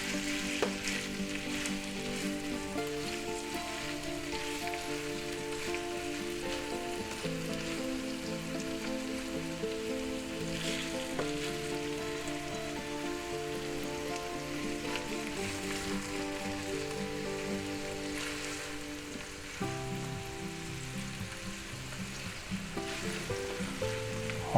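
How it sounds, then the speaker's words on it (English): Peppers and onions sizzle in a pan with roast beef for a pepper steak sub, a soft continuous frying crackle that sits under prominent background music. "Now we're going to go ahead and mix our peppers and onions in there"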